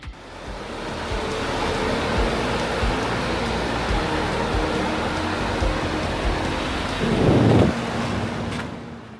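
The Lower Falls waterfall at a Yellowstone canyon overlook roars as a steady, dense wash of rushing water, continuous and fairly loud, with a brief swell of low rumble near the end and no talking.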